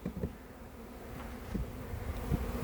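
A swarm of honeybees buzzes around hives at an apiary in the USA, a steady low hum with individual bees droning past close by.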